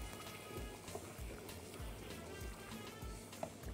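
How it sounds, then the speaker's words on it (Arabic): Salted water boiling in a pot for cooking rice, a faint, continuous bubbling and popping texture with soft irregular pops. "هتغلي وهدي عليها النار"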